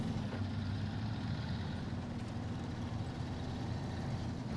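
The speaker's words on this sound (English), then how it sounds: "they just used a little short sound bite of an engine sound and then just kind of looped it" Looped truck engine from a video game, a steady low rumbling drone with a constant even hum and no clear changes, heard alone at a moderate level.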